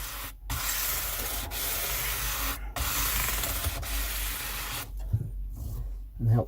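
Polishing-grade abrasive rubbed by hand over parts of a disassembled Harley Benton HB35 guitar, giving steady close scratchy swishing strokes with a few brief pauses between passes.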